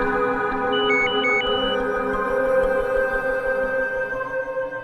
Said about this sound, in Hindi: जरा देखो तो किसका फोन है